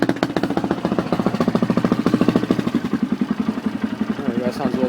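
A Honda 400ex ATV engine runs nearby with the choke on after a Namura piston failure rebuild, a loud, steady, rapid thumping idle that continues through the whole stretch.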